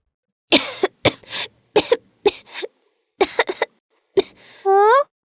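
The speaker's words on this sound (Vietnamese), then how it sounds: "Sáng giờ tớ cứ thấy ngứa cổ ho suốt à." A cartoon child coughs in a run of short, sharp bursts close to the listener, with brief pauses between them. A voiced throat sound ends the sequence.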